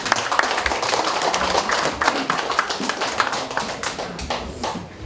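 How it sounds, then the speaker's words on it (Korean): An audience in an auditorium applauds at a foundation anniversary ceremony, many hands clapping in a dense, steady patter that tapers slightly toward the end. "큰 박수로 맞이해 주시기 바랍니다."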